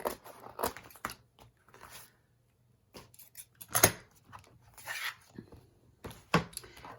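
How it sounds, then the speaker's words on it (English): Scissors cutting a long paper strip for ephemera crafts, a series of close, crisp snips and rustles in irregular bursts separated by short pauses. "now all I'm going to do, come on, let's find a starting point here, is"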